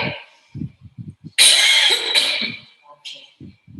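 A single forceful cough bursts out close up after a rehabilitation breath-stacking exercise for lung volume recruitment, preceded by several short stacked inhalations and followed by a brief quieter breath.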